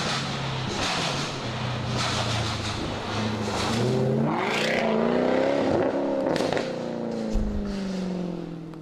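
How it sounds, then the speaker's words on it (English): Throaty sports car with a Larini aftermarket exhaust revving and rising in pitch as the engine accelerates nearby, with a sharp burble near the end. "This one has a Larini exhaust, so it's a little bit louder than stock"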